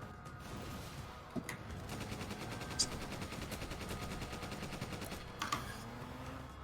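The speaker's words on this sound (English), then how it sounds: "I have the machine gun, so I'll be spamming bullets into a watchtower that closes the gate" Rapid automatic machine gun fire from Resident Evil 5, a steady rattling stream of shots aimed at a watchtower, with a few louder bursts standing out above the continuous burst throughout.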